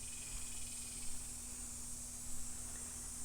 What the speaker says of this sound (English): It's just about dusk, so the cicadas are singing their song.